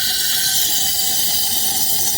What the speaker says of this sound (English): and then I just spray.